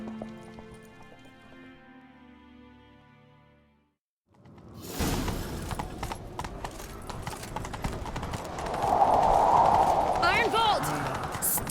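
Horses gallop in The Witcher 3 after a stretch of musical tones; rapid clip-clop hoofbeats build and grow louder with whooshing movement and a brief whinny, while characters' voices speak over the chase.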